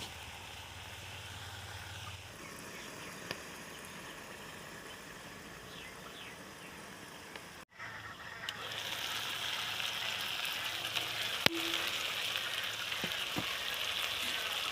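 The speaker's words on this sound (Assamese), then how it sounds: "পাঁচ মিনিটমান ভাজিলো।" Taro leaves with tomato and fish head fry in a covered pan, giving a soft, steady sizzle that gets louder and brighter after a brief clatter partway through, with no talking.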